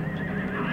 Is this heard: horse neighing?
yes